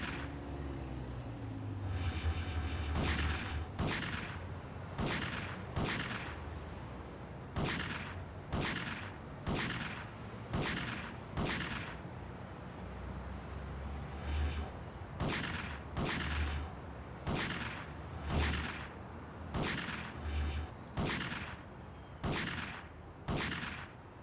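Gunfire in GTA: Chinatown Wars rings out as a long run of loud, evenly spaced single shots, each a sharp burst with a short tail, over low game background rumble and no talking.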